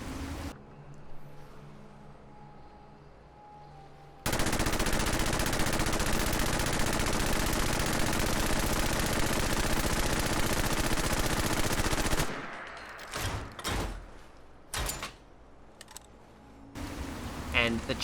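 A modded minigun in Fallout 4 spins up and fires, with a loud, dense, continuous burst of rapid gunfire lasting several seconds, preceded by quieter ambient noise and followed by a few short bursts and shots.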